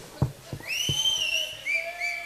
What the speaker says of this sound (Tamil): இந்த பக்கம் இருந்து விசில் வரணும், அந்த பக்கம் இருந்து வருது